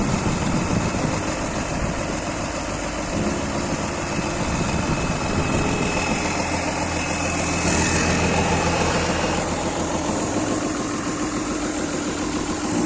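Isuzu 6BG1 diesel engine idling on a 20-ton Hitachi excavator after an overhaul: a loud, steady mechanical drone with rough low rumble and a constant whine, running alone without talk.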